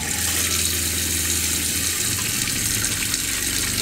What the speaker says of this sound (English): I'm just gonna run water through the cold water pipes.